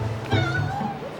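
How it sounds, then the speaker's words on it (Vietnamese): A stray cat in Istanbul giving a single drawn-out meow, close and clear over a low background hum. "Mèo ở đây xinh luôn kìa, trời ơi, 2-3 con luôn."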